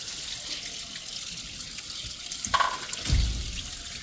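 Water drains from a water heater as a steady hissing rush, close by, with a few knocks and a low thump near the end.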